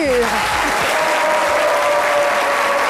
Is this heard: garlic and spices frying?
no